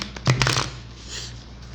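A deck of tarot cards gets a brisk shuffle indoors on a quiet morning, a short burst of riffling close up that fades into soft room noise.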